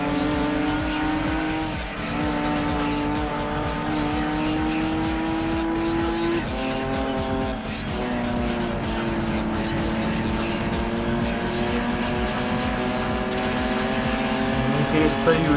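Racing cars in Gran Turismo 2 roar at high revs through a Clubman Cup race, engine pitch rising and falling with gear changes while tires squeal through corners, loud and continuous with someone talking over it.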